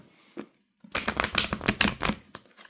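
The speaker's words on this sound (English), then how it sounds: "I feel led to shuffle this one more time." Tarot cards being shuffled close up, a brief tap followed by a burst of riffling card flutter lasting under two seconds, alone without talk.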